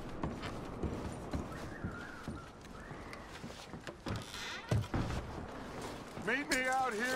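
Horse hooves clip-clop in Red Dead Redemption 2 as horses are packed up at a frontier camp, a steady uneven patter under ongoing talk and background game ambience.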